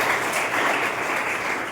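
Studio audience at a quiz show applauding to welcome contestant Gaurav, a dense, even wash of clapping from many hands, sustained without a break.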